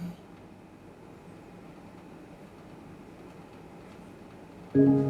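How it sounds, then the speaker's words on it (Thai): Low, steady rumbling noise runs throughout, then a short, bright electronic chime from a HiFuture Alpha 20W Bluetooth speaker signals a factory reset, ringing out loudly at the very end. "พอเสียงนี้เมื่อไหร่แสดงว่ามันรีเซ็ตค่าโรงงานแล้ว"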